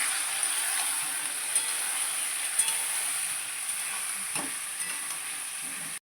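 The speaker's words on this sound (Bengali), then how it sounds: "একটু আলুগুলো ভাজা হবে।" Boiled potatoes and ginger fry in a pan with a steady, moderate sizzle, broken by a few faint clicks from stirring, then stopping abruptly.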